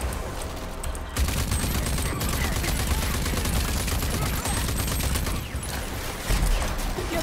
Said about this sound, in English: Assholes are launching rockets at me.